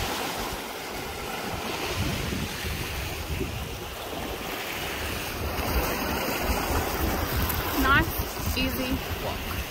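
Ocean water washes in around the shore of a coastal national park, a steady broad surf wash with wind buffeting the microphone, and a few voices and footsteps nearby.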